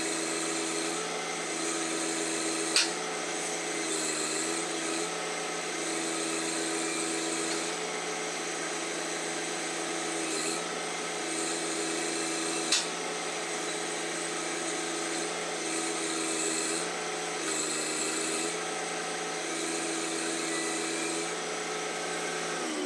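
A John Deere 1025R compact tractor running a grapple at wide open throttle gives a steady, loud, dense engine and hydraulic drone that holds even throughout, broken by a couple of brief sharp clicks.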